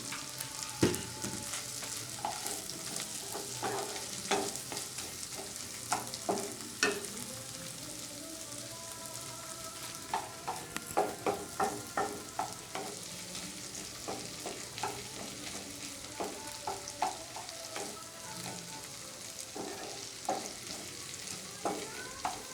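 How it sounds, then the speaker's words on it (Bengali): Chopped onion, garlic and ginger fry in a pan for chicken soup, with steady sizzling and a running series of close, sharp spatula scrapes and taps against the pan. "পেঁয়াজ আর রসুনটা ভালো করে একটু ভেজে নেব, কাঁচা গন্ধটা চলে যাওয়া অবধি"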